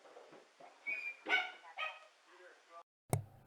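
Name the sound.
small dog barking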